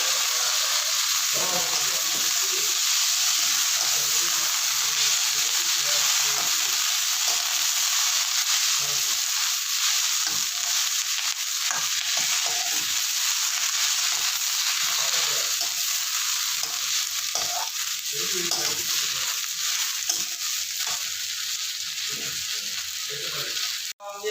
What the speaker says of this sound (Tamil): புதினா போட்டுறேன். கொஞ்சம் நல்லா வதங்கட்டும்.